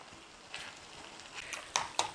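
Potatoes and onions frying in a pan for a Spanish omelette, a soft steady sizzle with a few scraping stirs and two sharper clicks of the utensil against the pan near the end.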